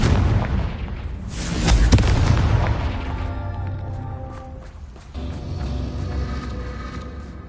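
A Confringo fire spell explodes in Hogwarts Legacy on PS5, a loud booming blast with crackling bursts that peaks early and then settles into a sustained rumbling roar.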